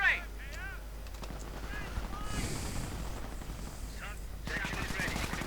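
Sustained MG42 machine-gun fire crackles through a World War II strategy game battle, steady bursts running with other gunfire while a voice commentates over the action.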